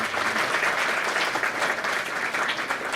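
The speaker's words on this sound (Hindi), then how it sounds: "उनके लिए भी हम जोरदार तालियां बजाएं" Loud, steady applause from an audience at a G20 meeting on women's empowerment, a dense wash of clapping that fills all three seconds without a break.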